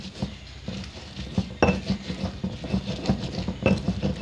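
A pestle grinds and taps rapidly in a mortar as spices are crushed with salt, a steady and close run of gritty knocks and scrapes with no voices.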